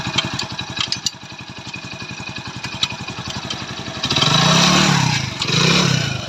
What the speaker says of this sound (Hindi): अभी मैं आपको इंजन की साउंड दिखाता हूँ।